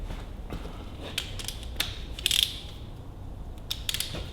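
A ratchet wrench and socket clicking at work on a Ferguson TEA 20 tractor engine with poor compression, giving short sharp metallic ratcheting bursts with pauses between them, close and fairly quiet, with no speech.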